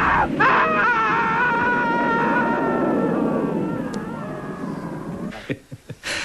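A long, loud wailing scream with sustained harmonic tones from a death scene in an Australian television drama, fading into softer breathy sobs and a few short gasping cries at the end.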